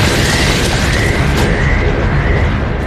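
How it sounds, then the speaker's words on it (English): A bomb blast in a documentary reconstruction of the Oklahoma City bombing fills the clip with a loud, sustained rumbling roar. A brief crack rises near the middle, with no clear start or finish. "The blast destroys G20, but does not destroy the other 3 columns and the transfer beam."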